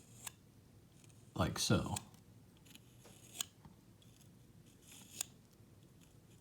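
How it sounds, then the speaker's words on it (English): An X-Acto knife drawn backwards along a plastic Traxxas RC-car axle to scrape off burrs gives one brief, close scraping burst, then a few faint ticks and light handling noises. A voice speaks briefly. "take an X-Acto knife and actually run it backwards"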